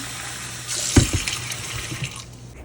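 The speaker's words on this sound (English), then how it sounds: "I'm going to take my rice, clean it, run some water in there." Tap water runs into a pot of rice for rinsing in a home kitchen, a steady splashing gush with a few louder sloshes near the start, close and alone.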